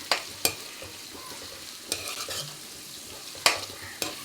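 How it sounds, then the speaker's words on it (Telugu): Onions and curry leaves fry in a pan for a gongura dried-fish curry, a soft continuous sizzle broken by several sharp scraping stirs of a spoon against the pan, with no talking. "ఈ ఉల్లిపాయలు గోల్డెన్ కలర్ వచ్చేంత వరకు ఫ్రై చేసుకుందాము"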